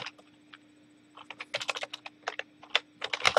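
Computer keyboard typing during a live Bash programming session, with uneven bursts of close, clicky keystrokes that speed up into rapid runs, alone and without talk.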